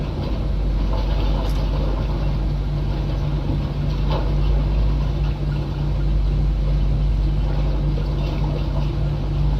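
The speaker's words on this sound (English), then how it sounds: "Engine number 1 start." Engines of a Boeing 737-800 start up in the PMDG flight simulator, a loud steady roar with a strong low hum and a constant rising drone running through the whole stretch.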